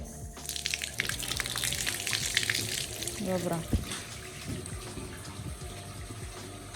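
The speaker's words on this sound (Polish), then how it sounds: "Czekamy, aż woda się napuści." Water runs steadily from a tap, filling up with a continuous gushing hiss, with brief talk over it.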